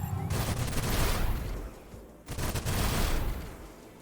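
Gunfire from the sci-fi strategy video game Age of Wonders: Planetfall, two bursts of rapid, rattling shots separated by a brief lull, fairly loud with no talk over them.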